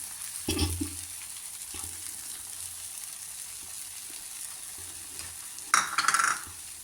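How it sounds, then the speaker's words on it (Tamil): Egg batter poured over a spicy kara dosa on a hot pan, giving a short burst of frying sizzle and scraping near the start, a quieter hiss in between, and a louder crackling surge near the end. "இப்போ முட்டை அது மேலே ஊற்றணும்."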